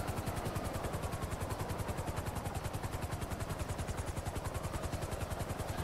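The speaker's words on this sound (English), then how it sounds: "I'm gonna try to park my helicopter on top of it" A video game helicopter's rotor thumps in a fast, steady rhythm over a constant engine whine, close and unbroken throughout, in GTA Online.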